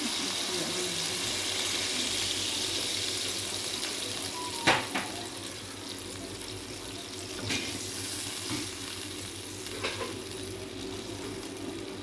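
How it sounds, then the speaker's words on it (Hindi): Water pouring into a pot of mutton for dum pukht, with a steady rushing stream and sizzle, plus a few sharp clinks of utensil against the pot along the way. "अब हम इसके अंदर डालेंगे पानी,"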